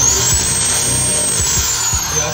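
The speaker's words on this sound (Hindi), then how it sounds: "ड्रिल के साथ कर दो।" A power drill runs steadily at high speed while boring into a wooden cupboard door to fit a magnet catcher, loud and close, with faint periodic knocks underneath and no talking.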